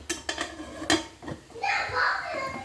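An idli pot being covered with a metal lid over red aval puttu flour: a few quick metallic clinks and clatters, then a soft steamy hiss, under light talk.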